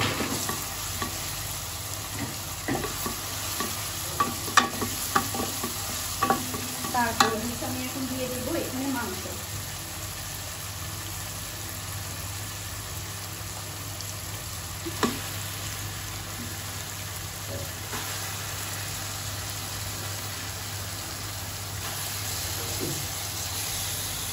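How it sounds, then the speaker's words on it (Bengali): Chopped green chilies being stirred into a frying spice masala: a soft steady sizzle with a burst of spoon scraping and clanks against the pan early on, then continuous gentle frying. "মশলার সাথে ভালোভাবে মিশিয়ে নিচ্ছি"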